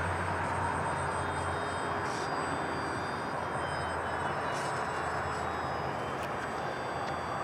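An E-flite UMX WACO RC biplane flies overhead, its small electric motor giving a continuous steady buzzing whine at moderate distance, with outdoor ambient noise and no talking.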